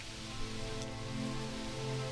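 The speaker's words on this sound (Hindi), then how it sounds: "अरे इतनी तेज बारिश हो रही है।" Heavy rain drums steadily on the roof of a poor family's village hut, a dense, even wash of patter that continues without a break.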